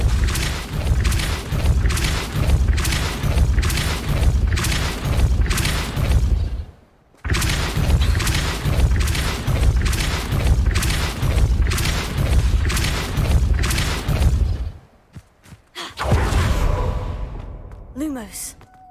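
Spell blasts from Hogwarts Legacy, dense rapid booming thumps repeating in long rolling bursts, loud and close, broken by brief gaps and ending with a swooshing tail.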